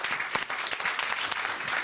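A council meeting audience in Pasadena breaks into applause for a newly introduced official, a dense, even patter of many hands clapping at close range for a couple of seconds.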